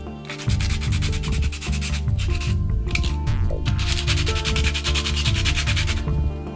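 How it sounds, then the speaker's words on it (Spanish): Medium-grit wood sandpaper rubbing across plastic pyramid pieces to remove small burrs, a steady loud scratchy back-and-forth scraping with rhythmic strokes filling the whole stretch, no voices. "Esto lo pueden quitar con una lija de madera mediana"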